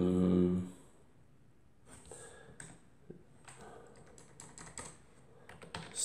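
Code is typed on a computer keyboard in quick irregular bursts of soft clicking, close and fairly quiet, after a brief voice at the start.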